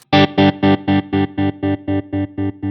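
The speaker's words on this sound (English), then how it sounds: "So the square wave, very, very harsh on and off." Electric guitar through a Line 6 Helix tremolo at full intensity with a square wave shape, the tone chopping hard on and off in about eleven even pulses that fade slightly toward the end, played alone.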